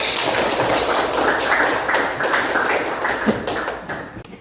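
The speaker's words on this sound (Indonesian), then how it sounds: "Tepuk tangan dong untuk semuanya yuk." A school classroom of students clapping hands together, a close, busy patter of many claps lasting a few seconds before tapering off.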